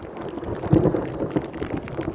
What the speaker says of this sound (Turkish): Ansızın bir yağmur bastırdı.